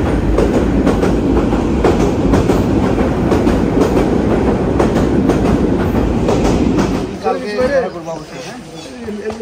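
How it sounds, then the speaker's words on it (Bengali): A train rumbles past nearby with loud, continuous clattering wheels on the rails, then the noise drops away abruptly toward the end as it fades. "ট্রেন যায়"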